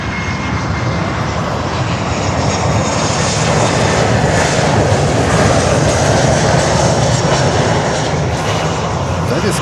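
A Global X jet airliner in Sunrise Airways livery at Miami airport gives a steady, loud engine roar that holds for the whole stretch, with voices heard faintly under it.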